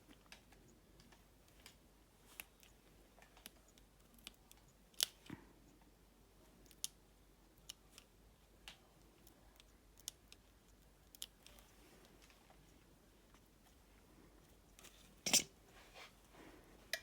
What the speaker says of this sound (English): I'm going to get my scissors